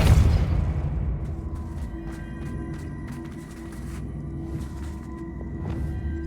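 Depulso spell from the video game Hogwarts Legacy: a deep booming burst that opens loudly and settles into a sustained low rumble with faint crackling, with no talk over it.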